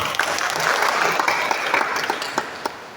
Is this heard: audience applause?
yes